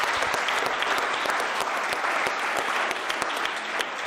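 Studio audience applause on a sports television programme, a steady, dense patter of many hands clapping at even volume throughout, with no speech over it.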